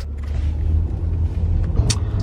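Car driving along a road, a steady low engine and road rumble inside the cabin with a brief higher hiss near the end, no talking.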